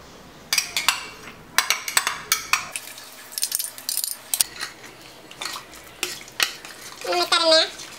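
A metal spoon stirs tomato paste into goat stew in a pot, giving close, irregular scraping clinks and clanks against the pot's sides, with quiet pauses between strokes.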